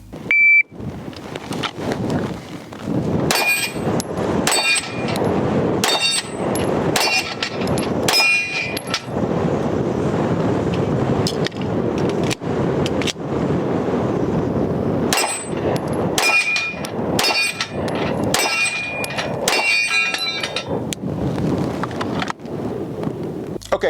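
Rounds strike a TA Targets Falling Tree steel target on an outdoor range, each hit ringing out as a sharp metallic clang, in bursts of several quick impacts separated by short pauses, loud and close.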